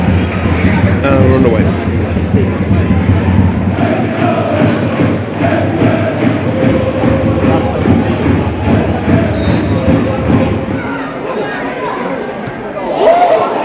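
York City supporters crowd a side stand before an FA Cup match against Rochdale, a steady roar of chatter, shouts and thumps, with a nearby voice talking over it.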